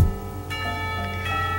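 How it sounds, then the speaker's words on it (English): School bells ring out with a sustained, resonant metallic tone that holds steady and lingers, struck again partway through, heard clearly with no voices over them. "Somewhere the school bells ring the last call of the day."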